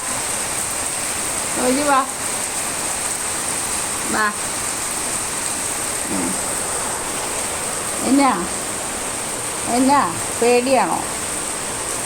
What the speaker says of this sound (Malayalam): മഴ